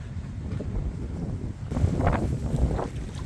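Strong wind buffeting the microphone at a lake during a fishing outing, a low rumbling roar that swells and gusts, with faint rustling and brief higher bursts partway through.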